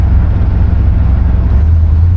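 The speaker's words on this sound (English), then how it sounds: "The motor sounds good." A 1969 Buick Electra 225 engine while driving, heard as a steady low hum and drone that carries evenly through the interior at a cruise, with no talking over it.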